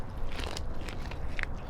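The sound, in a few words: biting and chewing corn in an eating contest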